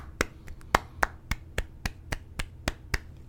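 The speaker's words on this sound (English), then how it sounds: "Slow claps for that." Slow, deliberate hand claps from a single person during a live prank-call show: about a dozen sharp, evenly spaced claps close to the mic, with no talking.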